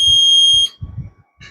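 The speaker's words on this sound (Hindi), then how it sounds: "तो बजर इंडिकेशन चालू हो जाएगा।" A PLC-based demo elevator's buzzer sounds a loud, steady high-pitched tone for over half a second when two floor buttons are pressed together, then cuts off as someone talks nearby.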